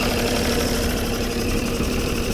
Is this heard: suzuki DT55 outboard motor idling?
yes